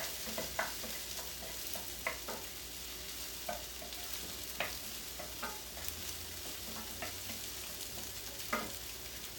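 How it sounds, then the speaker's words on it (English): Potatoes stirred in a pan set over an open fire, a soft continuous sizzle with irregular scraping and tapping of the utensil against the pan, fairly quiet and without talk. "And give it a quick stir again."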